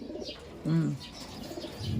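Pet pigeons at feeding time, with one soft, close, rolling coo rising out of quiet background noise.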